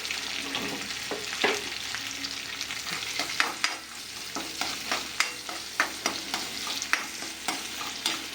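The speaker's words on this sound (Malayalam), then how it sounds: "വെളുത്തുള്ളി, ചുവന്നുള്ളി, വേപ്പില, ഇത്ര സാധനമാണ് ഞാൻ ആദ്യം വഴറ്റിയെടുക്കണം." Garlic, shallots and curry leaves sizzle in a hot pan with salt, with steady frying hiss and repeated scraping stirs of a spoon, close and without talk.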